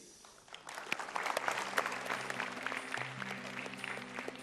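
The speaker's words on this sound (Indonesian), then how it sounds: "kita berikan tepuk tangan untuk itu" Studio audience applause on a television talk show, a dense wash of many hands clapping that swells in after half a second and holds steady and fairly loud to the end, with a faint voice underneath.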